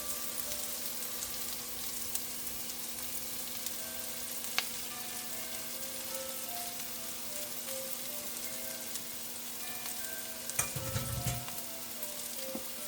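Tomato paste frying in a pot for a Caribbean chicken and squash stew, a quiet, steady sizzle with a few faint clinks and a brief burst of stirring noise near the end.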